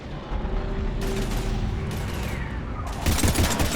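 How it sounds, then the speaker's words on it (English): Rapid bursts of gunfire from a firefight in Mass Effect 3 crackle over a steady combat din, with sharper volleys stacking up toward the end and a brief mechanical rattle in between. "We're taking heavy fire."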